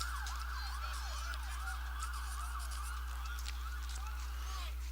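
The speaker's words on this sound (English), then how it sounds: "An ambulance here in the background." An ambulance siren wails in the distance behind a college baseball game broadcast, its rising and falling sweeps steady but faint over a constant low electrical hum.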